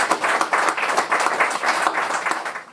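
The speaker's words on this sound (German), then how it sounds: "Und dazu nochmal mein herzliches Dankeschön und Applaus für die Menschen," A crowd at a railway reopening celebration applauds volunteers, with continuous, full clapping from many people that stays loud and evenly textured for the whole stretch.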